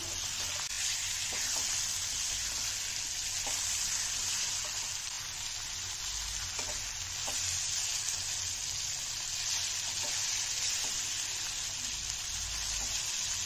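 Koi fish (climbing perch) fry in spiced oil in a kadai with a soft, continuous sizzle and hiss, steady and fairly quiet, with occasional faint pops.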